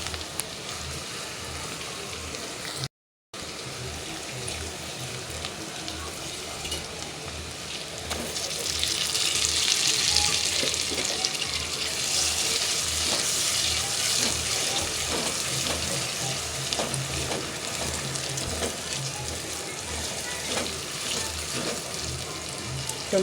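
A paste of onion and chili with ginger and garlic fries in a pan, making a steady broad sizzling hiss that swells louder partway through and continues unbroken at close range.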